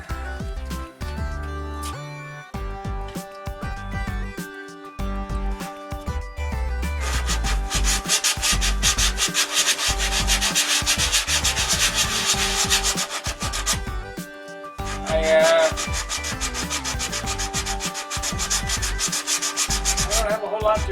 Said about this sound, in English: Oh, we got a lot of sand to do there. You get out the 80 grit for that.